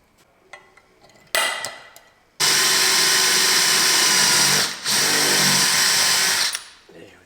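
A power drill bores holes through a sideways bed frame in a Renault Trafic campervan conversion, with a few short bursts followed by one long, loud, steady whine that dips briefly before stopping.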